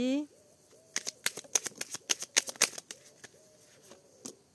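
Tarot cards are handled, flicked and drawn by hand, producing a quick series of crisp, close slaps and snaps at irregular intervals under faint background tone, with a brief voice at the start.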